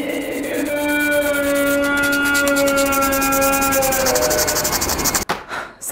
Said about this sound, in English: to do that, we have to start with sanding